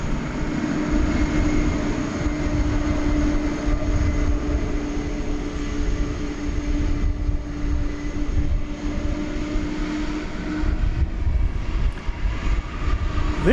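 A Qantas Boeing 787 Dreamliner departing DFW airport at night: sustained jet engine roar with a steady droning tone, loud and unbroken, dipping slightly near the end.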